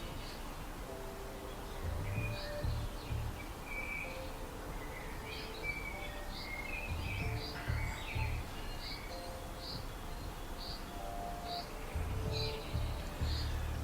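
Garden birds chirp and tweet repeatedly beside a small pump-fed waterfall, bright short calls scattered over steady trickling water at moderate distance.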